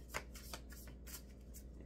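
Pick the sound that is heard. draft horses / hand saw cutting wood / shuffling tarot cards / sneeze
shuffling tarot cards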